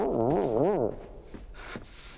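A voice imitates a car starting, with a warbling, rising-and-falling engine whine for about a second followed by breathy rushing noises, close and alone.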